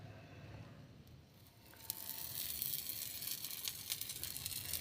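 Ragi dosa batter poured onto a hot pan gives a faint, steady sizzle that grows a little louder and crackly partway through, with no talking.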